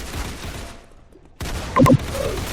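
Gunfire in a shooting video game: a short crackle of shots comes after a brief lull, with a few sharp bursts close together near the end and game ambience around them.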